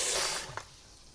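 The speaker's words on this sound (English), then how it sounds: "fill the stock pot with water again" Tap water rushes into a stock pot, a loud spraying hiss that fades after a moment into quieter running water, with no voices.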